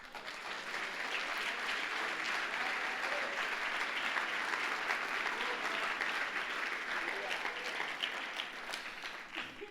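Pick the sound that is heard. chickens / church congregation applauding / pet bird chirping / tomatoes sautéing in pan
church congregation applauding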